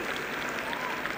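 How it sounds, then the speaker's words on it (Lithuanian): An audience at the opening of a sports festival in Palanga applauds the vice mayor, a steady wash of many hands clapping at moderate distance throughout the short burst. "Plojimai vicemerui."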